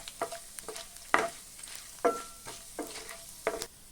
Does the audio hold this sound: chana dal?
yes